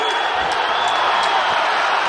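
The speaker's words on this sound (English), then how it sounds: "And the crowd responds" Arena crowd at an ACB 50 MMA bout, a steady roar of cheering with a few whoops and shouts rising out of it, loud and continuous throughout.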